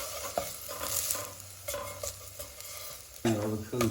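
A spoon stirs pork tongue with garlic, spices and fat in a pot, giving repeated scraping swishes over a soft sizzle, with occasional metallic knocks and a louder clatter near the end.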